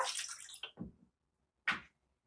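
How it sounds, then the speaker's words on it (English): Milk poured from a jug into cupcake batter in a home kitchen: a short gurgling pour with a soft splash, a pause of near silence, then one more brief pour, with no talking. "Now we're gonna pour the milk into the mixture."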